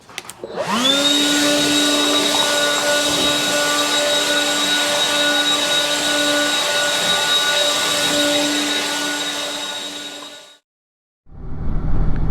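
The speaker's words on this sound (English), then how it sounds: "So, garage successfully de-leaved with that blower." A battery-operated leaf blower clears leaves out of a garage with a loud, close, steady whine that runs unbroken for about ten seconds, cuts off sharply, then starts up again briefly.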